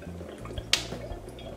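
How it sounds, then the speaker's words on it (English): Liquid serum is poured onto a pan, giving soft, faint drips and one small splash in a quiet room. "Okay, Jeffy, pour a little bit of the serum on the pan."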